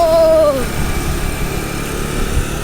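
A small engine idles with a low, steady rumble just before being switched off, while a brief tonal whine fades in the first half-second over the continuous background hum.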